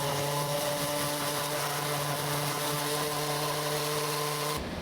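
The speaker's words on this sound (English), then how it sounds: "I do need to do a little bit of sanding because this back is rough as hell" A steady, whirring power sander drones continuously with a rough grinding texture on the rough back of a wooden guitar body, cutting off abruptly at the end.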